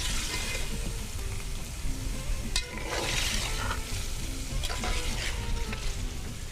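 Beef pulao base frying in a pot, a loud, dense, continuous sizzle like heavy rain, with occasional scraping clatters of stirring, close and without voices.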